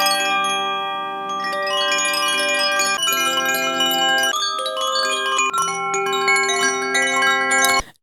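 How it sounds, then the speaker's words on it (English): Bright koshi chimes ring continuously, their overlapping tones shimmering and sustaining as new strikes layer in, close and clear with no voices. "We've also got quite a rare set of chimes called koshis"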